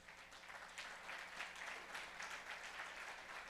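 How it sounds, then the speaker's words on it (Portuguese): A church congregation applauds during a sermon, a steady wash of clapping at low level that swells slightly in the middle and holds throughout. "Você pode aplaudir ao Senhor por isso?"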